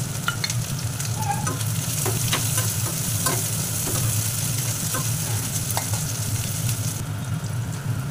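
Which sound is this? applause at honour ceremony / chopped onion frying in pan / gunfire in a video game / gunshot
chopped onion frying in pan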